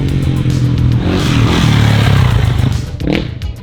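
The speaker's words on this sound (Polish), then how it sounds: "Motorki tam strzelają." Motorbikes revving hard close by, a loud continuous engine roar with rising and falling pitch and scattered crackling pops, filling the whole moment.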